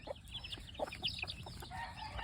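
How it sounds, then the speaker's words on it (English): Free-range yard fowl chickens of mixed mongrel breeding cluck in short, irregular bursts, fairly close, with a few sharper calls over steady farmyard background noise. "some folks wouldn't value some of these yard fowl, your mongrel bred"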